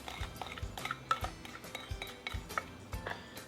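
Hummingbird cake batter being mixed, wet ingredients stirred into the dry flour mixture with a utensil, giving soft repeated scraping and clinking knocks against the bowl, quiet and close, with no talking.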